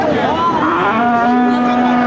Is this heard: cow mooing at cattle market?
yes